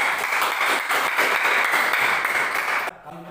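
A class audience applauds a group presentation, a steady burst of many hands clapping that fills the room for about three seconds, then cuts off abruptly.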